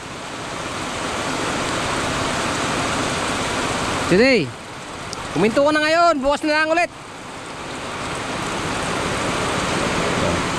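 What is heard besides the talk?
heavy rain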